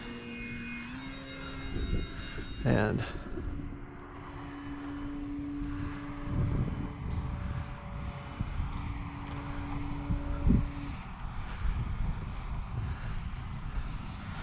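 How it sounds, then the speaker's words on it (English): Electric motor of an FMS PA-18 Super Cub RC model plane whines steadily, with pitch shifts and tones rising and falling over a broad rushing hum. "this is the PA-18 Super Cub by FMS"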